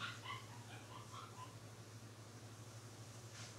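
A small dog, a little female, whimpers and yips in a few short, faint high cries over a low steady hum indoors, with no talking.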